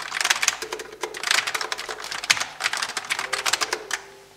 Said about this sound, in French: le clavier, avec les switches low profile, a nettement atténué son niveau de bruit, ses claquements